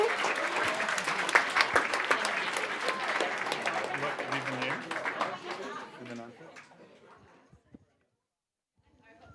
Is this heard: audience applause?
yes